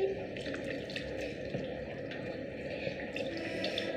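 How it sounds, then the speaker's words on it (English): Tap water runs steadily into a sink during a child's face wash at home, a continuous close splashing rush with small drips and clatters throughout, no words spoken over it. "Let me wash your face."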